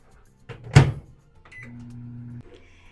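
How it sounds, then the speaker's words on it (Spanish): A microwave oven heating whipping cream in a home kitchen: a door clunk and click, then a steady low hum running for about a second before a faint beep-like stop, close and alone. "Yo la voy a calentar en microondas"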